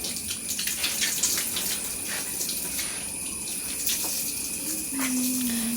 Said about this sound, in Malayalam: ആ വെള്ളം അങ്ങ് തുറന്ന് വിട്ടിട്ട് ആ വെള്ളത്തോടു കൂടി അടിച്ചു വിട